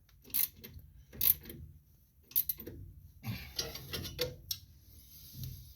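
A wrench tightens a bolt on the alternator of a Melroe M600 Bobcat skid loader. It gives a run of metallic ratcheting clicks and clanks in uneven bursts, heard close with some shop background between strokes.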